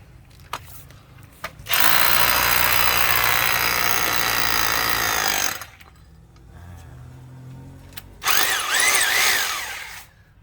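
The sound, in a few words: 1800-watt rotary hammer drill drilling concrete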